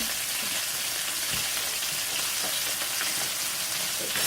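Chicken pieces for pasta Alfredo sear in a pan with a dense, even, loud hiss that runs unbroken from start to finish, close and without voices.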